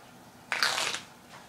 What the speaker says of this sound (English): And just for the heck of it, we'll give it a shuffle.